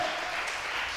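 A church congregation claps during a worship service, making a steady, dense wash of applause that fills the whole moment without breaks.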